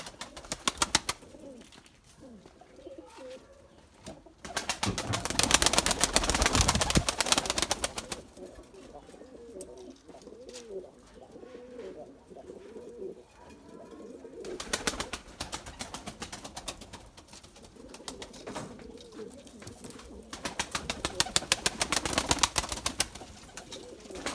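Limoni breeding pigeons coo steadily in a loft, with soft repeated throaty calls, bursts of louder activity and what sounds like wing flapping coming and going over the whole span.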